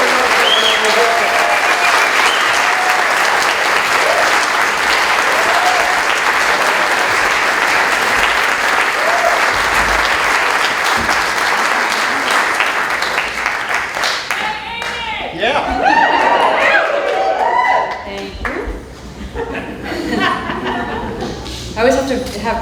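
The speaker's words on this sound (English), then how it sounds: "please give her a rousing round of applause" A large audience at a film festival opening night gives sustained, loud applause for about fourteen seconds, then it thins into scattered clapping, cheers and a voice speaking.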